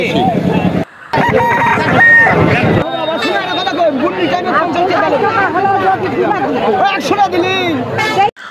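Roosters crow and hens cluck loudly at a crowded village chicken market selling local birds, repeated calls over a dense babble of people talking and bargaining nearby.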